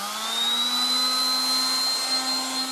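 A 1960s Dateline DLMD vintage hairdryer on its single heat and speed setting drones steadily with a whiny high-pitched motor tone, constant and loud, running without a break.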